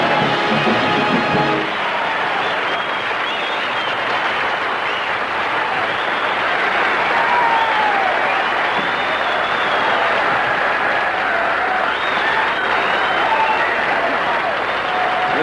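Large military audience at a 1968 Bob Hope USO Christmas show in Thailand breaks into sustained, loud applause with cheering and whistles, a dense crowd roar filling the whole stretch after a brief voice at the start.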